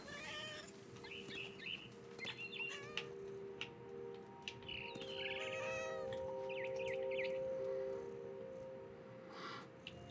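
A cat in the video game What Remains of Edith Finch meows repeatedly, several drawn-out, close calls over a steady tonal game hum. Faint chirps appear between them, and nobody talks.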